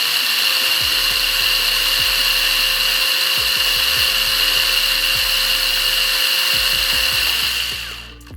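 A cordless drill fitted with a swapped-in brushless motor spins at high speed with a loud, steady, close whine for several seconds, then winds down at the end.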